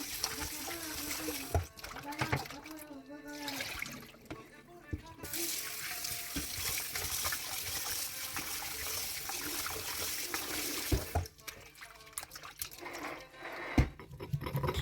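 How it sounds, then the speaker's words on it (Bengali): Running water splashes and trickles in a sink while small puti fish are rubbed clean with salt, under steady talk from a woman in a home kitchen. "আমি যে কোনো মাছই লবণ দিয়ে ভালোভাবে পরিষ্কার করে নিই দুই তিনবার লবণ দিয়ে ভালোভাবে পরিষ্কার করি"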